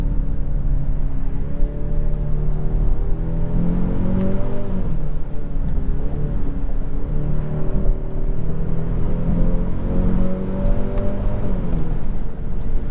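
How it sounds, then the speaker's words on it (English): A 2022 Genesis GV70 with an 8-speed automatic in sport mode accelerating hard, its engine rising in pitch through repeated quick upshifts over a steady cabin rumble, loud and close. "Very, very fast shifts from this 8-speed automatic in sport mode."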